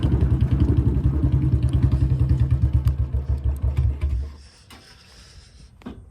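A Royal Enfield Bullet 350 motorcycle thumps along with its steady, rapid single-cylinder beat, close and loud, then slows as it pulls over to the roadside and the engine note drops away to near quiet.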